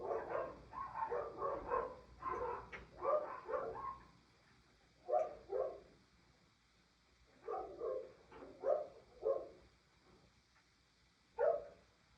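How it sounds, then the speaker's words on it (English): Dogs bark in repeated bursts at a distance, clusters of yaps separated by short pauses, fairly faint over a quiet background. "letting the sound of the barking dogs bringing you back into the present moment"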